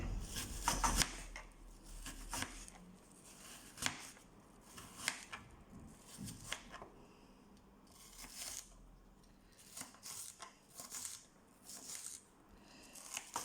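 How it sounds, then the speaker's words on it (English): Onion being roughly chopped for a Kenyan githeri dish, a series of irregular knife strikes against a cutting board, fairly faint and close, with short pauses between bursts of cuts. "we're just going to roughly chop the onion"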